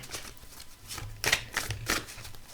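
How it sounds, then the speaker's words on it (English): Tarot cards being shuffled by hand, a soft papery riffle with two brief louder bursts near the middle, set against quiet room tone and no talking. "Right, I might shuffle in."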